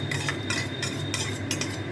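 Chili and tomato paste going into mutton being stirred for a spicy kosha brings a close, rhythmic run of metal utensil scrapes and clinks against the pot, repeating every half second or so over a low steady hum.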